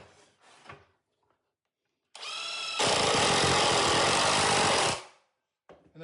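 A power drill drives long screws into wood: a short, whining spin-up, then about two seconds of loud, steady buzzing grind up close, with quiet gaps and faint clatter on either side.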